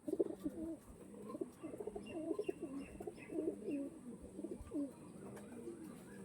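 Pigeons of fancy breeds kept together, several birds cooing in repeated soft, throaty rolls close by, overlapping one another at moderate volume with no talking.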